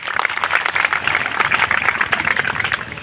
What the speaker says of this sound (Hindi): मैं चाहूँगा एक बार गुड्डू चौहान जी के लिए तालियां बजाएं।